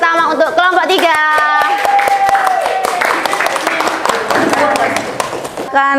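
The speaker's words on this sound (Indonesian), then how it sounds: "maka kita beri tepuk tangan yang meriah." Classroom applause for a student group about to present, dense clapping from many hands filling the room, with tonal voices or singing over the start and a brief gap near the end.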